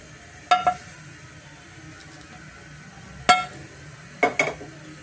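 Poppy seeds being mixed into dry coconut in a pan, heard as a few sharp clinks and scrapes of a spoon against the metal pan at irregular intervals, quiet between strokes, with no talk.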